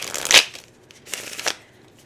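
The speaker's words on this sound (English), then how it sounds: "I'm going to do another shuffle." Tarot cards are shuffled up close in a few quick riffling bursts with short pauses between, crisp and papery with no talking.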